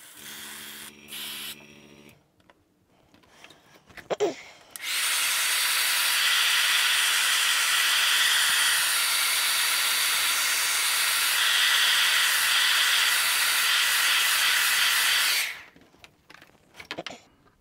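An airbrush sprays silver paint in a steady, loud hiss lasting about ten seconds, framed by short bursts and clicks before and after.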